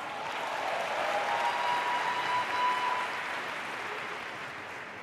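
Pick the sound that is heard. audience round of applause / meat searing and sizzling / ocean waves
audience round of applause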